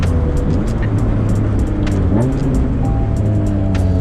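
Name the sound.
RHD K20 Acura Integra driving on a bad road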